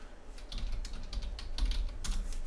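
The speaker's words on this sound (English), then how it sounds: "I'm just going to type in" Quiet, steady typing on a computer keyboard, with soft rapid key clicks in an uneven rhythm and no one talking.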